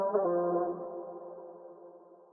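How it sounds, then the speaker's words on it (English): A single vocal chop sample from an Afro R&B beat made in FL Studio, a short sung tone with a bright start that fades out slowly over about two seconds, quiet and alone. "I've added this vocal chop."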